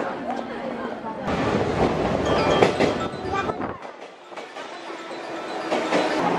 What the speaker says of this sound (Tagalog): Naantay namin yung train.